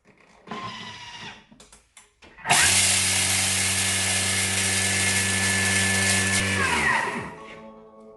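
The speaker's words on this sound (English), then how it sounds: "now it's going to grind this, and that will take 15 seconds" A Thermomix TM6 kitchen machine grinds ingredients, starting with a short burst and then running as a loud, steady whirring blender drone for about four seconds before winding down.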